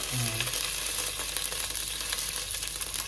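Ginger and garlic frying in a pan for mutton curry give a loud, continuous sizzle with a crackling texture that never lets up.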